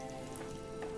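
Mutton frying in masala and curd on a medium-to-high stove flame, a steady close crackling sizzle with dense spattering pops running throughout, no voices.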